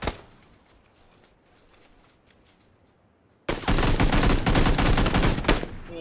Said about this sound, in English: How many times do I gotta shoot you?